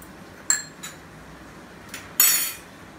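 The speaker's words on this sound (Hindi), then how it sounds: "ये थोड़ा मैश कर लेती हूँ पहले, सब मिला के मिला लेती हूँ पहले" A utensil knocks and clinks against a pan while Gobi Manchurian ingredients are mashed and mixed, a few sharp metallic taps up close with one louder scrape-clink near the end, no talking.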